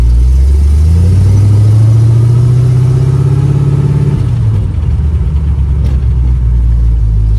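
A 1936 Chevy car with a faulty fuel level sender driving, its engine loud and close as a rising droning hum climbs and then drops into a steady low rumble.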